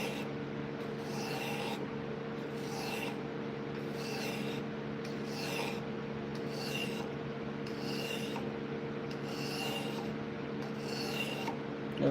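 A blade bevel is sharpened against sandpaper held at a corner: repeated back-and-forth rasping strokes, about eight evenly spaced rubs, close and fairly quiet over a steady low hum.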